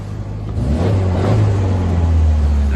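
A 1963 Morris 1000 factory tourer's engine runs steadily close by, a low continuous hum that swells slightly as it settles into a constant drone, with no talking.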